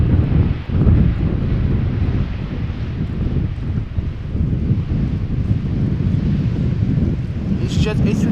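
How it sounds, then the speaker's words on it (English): An EasyJet Airbus A320neo airliner on short final, arriving from Palma de Mallorca, a steady loud low rumble of engine and wind noise that holds throughout. "EasyJet A320neo, last minute turn onto the glide slope, short final, arriving from Palma de Mallorca."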